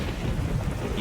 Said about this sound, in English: Anything to get out of the rain.